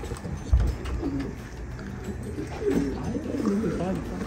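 Very young, late-hatched pigeons cooing in a loft, with soft low coos repeating through the clip over a steady background of fluttering and rustling, close and moderately loud.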